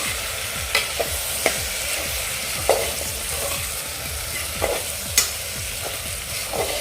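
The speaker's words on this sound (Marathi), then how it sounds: "पुन्हा आपण हे एक दोन मिनटं आपण असंच परतून घेऊया" Mixed vegetables in an onion-garlic masala stir-fried on a low flame for the Bhogi bhaji, a steady close sizzle broken by occasional sharp clicks of a spoon against the pan, with no talk.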